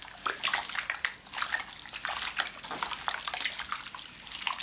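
Raw turkey tail being rinsed under running water in a sink, a steady close rush and splash of water with irregular sloshing and handling noises throughout, no voices.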